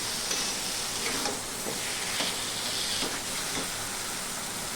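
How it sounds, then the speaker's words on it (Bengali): Taro leaf curry with pre-fried chopped coconut is stirred in a pan, giving a continuous soft hissing simmer with a few gentle scraping strokes, close and steady, with no talking. "তাও নেড়ে চেড়ে মিশিয়ে নেবো একটু ভালো করে।"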